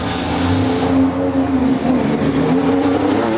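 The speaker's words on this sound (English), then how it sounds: "Firing up, the car is ready to go." A Red Bull RB20 Formula 1 car pulls out of the garage at Silverstone, its engine a loud, close, sustained rasping roar with slight pitch shifts.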